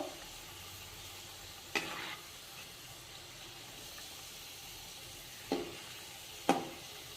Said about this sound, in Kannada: ಇದು ಎಣ್ಣೆ ಕಾಸಿ ಸ್ಲೋ ಉರಿಯಲ್ಲಿ ಬೇಯಿಸ್ಕೊಂಡ್ರೆ ಚೆನ್ನಾಗಿ ಆಗ್ತವೆ ನೋಡಿ